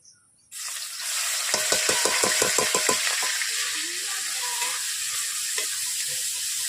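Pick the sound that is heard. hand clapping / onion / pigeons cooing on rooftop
onion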